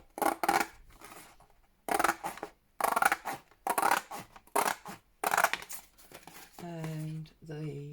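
Scissors snipping through a cardboard tissue box to trim it into a journal cover, a series of close, crisp cutting bursts with short pauses, followed by a brief voice at the end.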